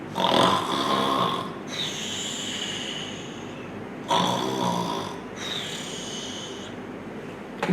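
A voice imitates loud snoring, with two long rasping inhaled snores separated by pauses, close and rough in texture.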